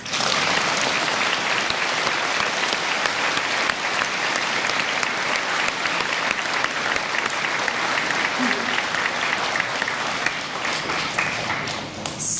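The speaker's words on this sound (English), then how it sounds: "I would like to give him a round of applause" An audience applauds a veteran at a gathering of veterans, loud sustained clapping from a large crowd that runs steadily for over twelve seconds.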